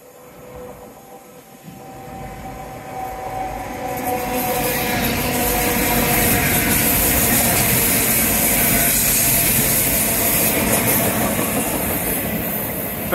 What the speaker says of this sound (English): Very sedate little train